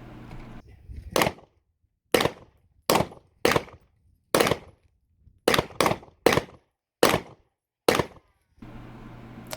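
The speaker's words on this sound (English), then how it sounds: "Here's me shooting in real life with a Glock." Ten sharp Glock pistol shots ring out at a target outdoors, spaced irregularly about half a second to a second apart, each a loud crack with a short decaying tail, with low ambient noise before and after.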